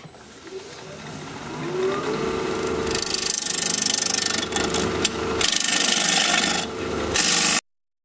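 A bowl gouge hollows out an alder bowl spinning on a wood lathe at about 1500 RPM, giving a close, steady scraping rasp that grows harsher partway through with brief dips before it cuts off suddenly.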